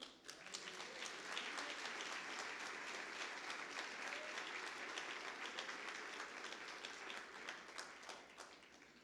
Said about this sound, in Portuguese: Então aplauda ao Senhor.